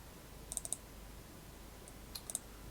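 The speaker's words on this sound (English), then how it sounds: "so I'm going to double click" Computer mouse clicks, small crisp ticks in two quick clusters about a second and a half apart, the second pair a double click, close and faint over a quiet room.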